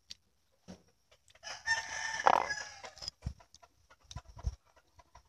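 A rooster crows once loudly amid scattered clucks from chickens, nearby and otherwise quiet with short gaps between calls.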